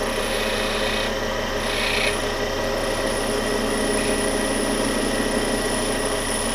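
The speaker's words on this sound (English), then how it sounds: "grind them some relief on the bottom." A tool held against a grinding wheel to grind relief into its bottom edge, a continuous loud rasping grind over a steady motor hum, with slight swells in scraping intensity and no speech.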